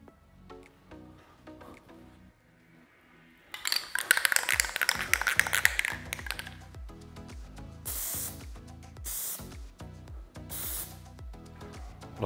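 Aerosol spray paint hissing in several bursts onto freshly wiped knobs while refinishing a smooth surface, a long loud spray followed by shorter close-up blasts.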